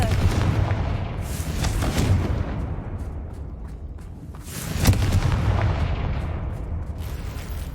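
Confringo blasting spell cast in the video game Hogwarts Legacy, producing heavy rumbling explosions with two strong swells of booming blast noise, loud and close, with no talk.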